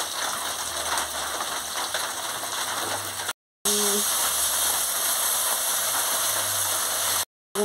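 Puti fish with bitter gourd and potato fries in spices in a pan, a dense, close sizzling crackle that runs steadily, broken by two brief silent gaps.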